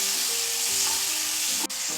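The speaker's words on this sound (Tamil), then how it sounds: "இப்போ நம்ம இதை நல்லா வதக்கிடணும்." Garlic, ginger and green chillies sauté in a pan, a steady close sizzle with stirring scrapes and one sharp utensil clink near the end.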